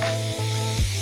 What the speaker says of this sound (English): I'll spray a bit of disc brake cleaner